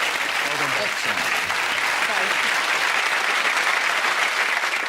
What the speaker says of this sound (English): Can I have a nice round of applause for this lady?